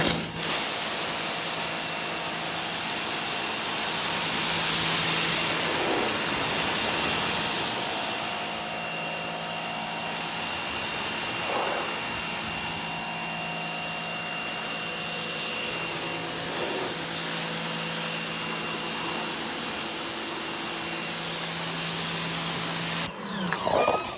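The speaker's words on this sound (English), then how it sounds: "Got the pressure gun out, gonna make it work." A pressure washer gun spraying down a car during an exterior detail at an auto shop, a steady loud hiss and drone running continuously for over twenty seconds before cutting off.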